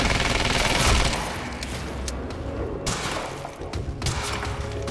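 Gunfire in the video game Quantum Break: dense, loud bursts of rapid shots and booming impacts that continue almost without a break, with sharper volleys near the start, middle and end.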